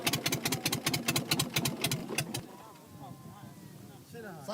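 A migrant boat's engine chugs with a rapid, regular beat for about two seconds, then stops and leaves quiet open-water ambience.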